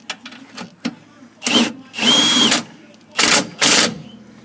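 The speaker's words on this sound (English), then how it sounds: "And I'm going to drive this bolt back into the hub." An impact gun fitted with a 14mm socket drives a bolt into a car's wheel hub in several short, loud, rattling bursts that stop and start, with light clicks and handling noises in between.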